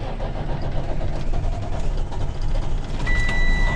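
An aging truck engine that is growing harder to start cranks and catches, settling into a loud, rough mid-pitched idle up close.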